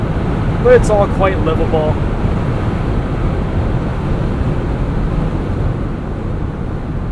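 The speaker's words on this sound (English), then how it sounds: "We're getting a little bit of noise from the roof here because this is the fold back soft top." Steady broadband wind rush from the fold-back soft top roof of a 2020 Jeep Wrangler Rubicon EcoDiesel while driving, a constant roar filling the cabin under a brief spoken remark.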